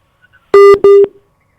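Two loud electronic tones of a telephone busy signal after a call is cut off, each about a quarter second long with a short gap between them, in otherwise quiet surroundings.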